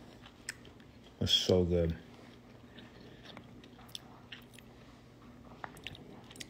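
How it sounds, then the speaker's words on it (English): A brief crunchy bite and a few quick chews on a piece of chicken, close to the mic, set against a faint room background with some quiet speech. "That piece of chicken I just chewed"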